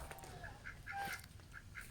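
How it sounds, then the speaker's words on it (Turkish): Faint honking and quacking of farmyard geese and ducks, a few scattered calls at a distance over a low background rumble. "Kazlarım var, ördeklerim var."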